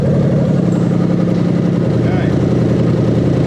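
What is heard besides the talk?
Lexus LS400 1UZ-FE engine starting and idling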